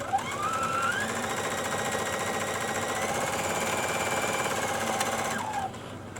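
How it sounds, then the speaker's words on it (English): A sewing machine runs in one long continuous stitching burst along the side of a fabric rice bag, a steady mechanical whirr that ramps up at the start and winds down near the end. "I'm going to keep sewing down this long side of my rice bag here."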